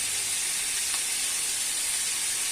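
Curry ingredients sautéing and being stirred in a pan for puli kulambu, a steady close sizzle with a faint scrape of stirring, no voices.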